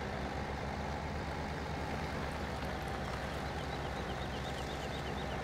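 A tractor engine, the 1090 in Farming Simulator 17, idles with a steady, continuous diesel rumble and hiss, low and even throughout with no talk over it.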